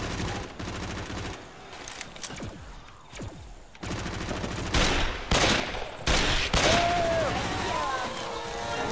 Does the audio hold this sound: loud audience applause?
no